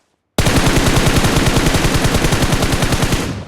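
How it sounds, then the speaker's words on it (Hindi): Automatic gunfire in the mobile game BGMI, fired during a sensitivity test: a continuous, loud, rapid rattle of shots that starts abruptly and runs for about three seconds before trailing off, with no voice over it. "ऐसे ऐसे फायर करके देखो कि कहीं हिल रहा है कि नहीं हिल रहा है।"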